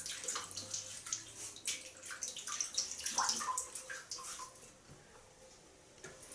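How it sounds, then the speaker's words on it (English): Water splashes and trickles as a man wets his face with his hands before a wet shave, in quick irregular splashes and drips close by, fading toward the end with no talk. "So, just going to wet the face."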